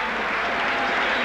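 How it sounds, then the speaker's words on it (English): A capacity crowd at the Forum applauds and cheers Sergei Bubka after his 19 ft 5 3/4 in pole vault at a 1986 indoor meet, a dense, steady wash of clapping and crowd noise with no talk. "This capacity crowd is on its feet, applauding the Russian, Sergei Bubka"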